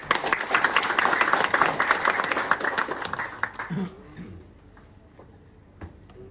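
An audience applauds at an event honouring a Persebaya-related speaker, a dense burst of clapping for about four seconds that fades to a quiet room with faint stray sounds.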